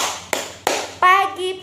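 Two sharp, close hand claps from children in an Indonesian classroom doing a 'tepuk semangat' cheer, followed right away by children's chanting voices.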